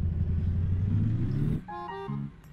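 In the American Truck Simulator video game, a truck engine rumbles low and steady for about a second and a half, then drops away as brief tonal game sounds take over, all fairly quiet with no talking.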